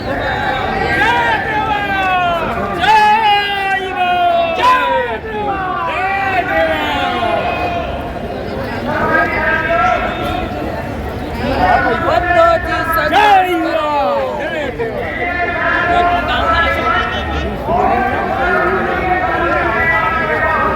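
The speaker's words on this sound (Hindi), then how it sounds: "बहुत ही भीड़ है" A large rally crowd at Ramlila Maidan in Delhi shouts, chants and chatters continuously in the open air, loud and close, with rising group calls every few seconds.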